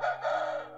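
A Japanese Shamo rooster crows once, close and loud, in a short harsh call with no talking around it.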